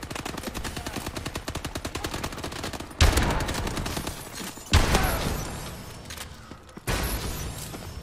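Rapid automatic gunfire from a rifle in Call of Duty: Advanced Warfare rattles as a steady, close stream of shots. Several louder, sharper bursts and impacts break in around the middle and near the end.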